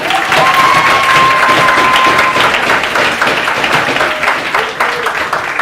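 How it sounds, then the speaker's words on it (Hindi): Applause from a classroom audience fills the space, dense and continuous clapping at close range, tapering slightly toward the end, with no voices over it. "तालियां बजा दो अपने लिए।"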